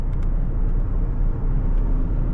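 An Audi A6 50 TDI with a 286-horsepower V6 diesel engine pulls forward under acceleration, heard from inside as a loud, steady low rumble and road noise with no speech.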